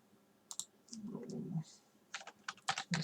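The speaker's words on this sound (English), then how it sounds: "I'm probably going to have to type it in here" Fingers tap on a computer keyboard in quiet, irregular bursts of clicks, close by, with a brief low murmur of a voice partway through.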